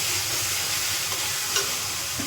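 Onion with ginger and garlic sautéing in a pan, a dense continuous loud sizzle with a couple of faint utensil scrapes, heard up close and without any voices.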